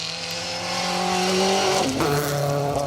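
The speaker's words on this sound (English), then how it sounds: "Andrew and Joe Hutchinson through in their Clio 172 Cup car." A Renault Clio 172 Cup rally car races through a forest stage at the Kielder Forest Rally, its engine revving loudly and climbing in pitch as it nears, then dropping sharply as it passes.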